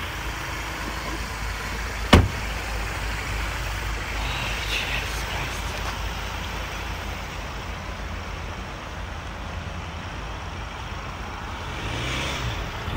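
A lorry engine drones steadily throughout, a continuous near rumble of the truck driving, with one sharp knock early on and faint voices in the background.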